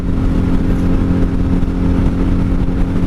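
Steady, loud low engine drone of a wrecked 1997 Honda Magna VF750C motorcycle cruising in 5th gear on a highway, with constant wind rush and no talking.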